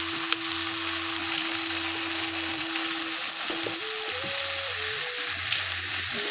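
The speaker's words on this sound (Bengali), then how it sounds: "আজকে কাঁচা দিলে, কাঁচা মশলার ভেতর দিয়ে মা কষাচ্ছে" Chili chicken with onions and raw spices sizzles steadily in a pan while being stir-fried, a loud continuous close hiss with a faint hum and beeping tones underneath, no voices.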